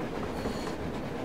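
A moving train in the video game Metro Exodus rumbles steadily, a dense, continuous rolling roar of rail noise with faint clatter, heard alone without talk.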